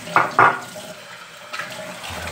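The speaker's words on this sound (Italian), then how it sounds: "l'acqua calda non arriva" Tap water runs into a sink during a wet shave while waiting for hot water. A steady hiss of flow is broken by two sharp knocks early on, and the water surges again near the end.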